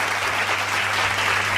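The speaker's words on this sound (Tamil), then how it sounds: "கைத்தட்டுங்க அவருக்கு." A church congregation claps together during a Tamil sermon, producing dense, steady applause that fills the room at full volume for its whole length.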